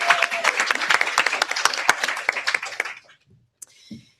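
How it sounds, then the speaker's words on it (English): An audience at a women's roundtable on industry and government gives a burst of loud, close applause that fades out after about three seconds, leaving quiet with a couple of faint knocks. "I'd like to give a round of applause to these women because they have courage"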